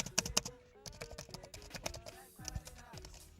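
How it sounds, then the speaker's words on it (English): Keys clatter on a Dell G5 SE laptop keyboard in a quick, irregular run of crisp taps, close and fairly quiet, with no talking. "Let's do a type test."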